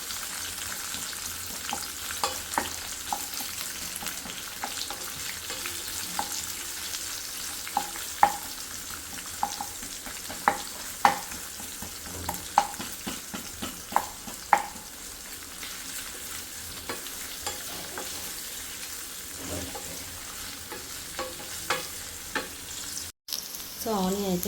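Onions frying in a pan for butter chicken, a steady broadband sizzle with frequent sharp spoon scrapes and stirring knocks spread through the whole stretch, close and fairly loud, with no voices.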